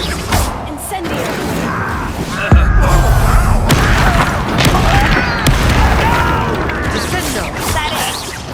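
An Incendio fire spell cast in the video game Hogwarts Legacy, set in a mine: a sudden heavy whoosh and boom followed by dense, crackling magical bursts and clattering effects over steady game background.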